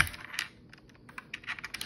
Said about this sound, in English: here's my keyboard, and there's blue switches.